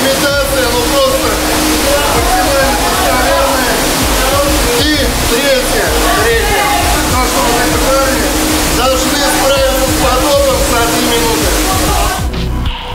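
Loud, continuous rush and slosh of water churning inside a ship rocking simulator filled with up to 75 tons of water at a navy training facility, steady throughout with someone speaking over it.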